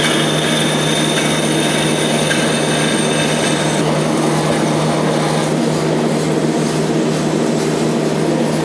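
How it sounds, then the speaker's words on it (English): A bandsaw cuts through rear control arm tubes for a tube-chassis drift Camaro, giving a loud, continuous, close-up mechanical drone that holds steady throughout. "we're gonna cut them on my bandsaw"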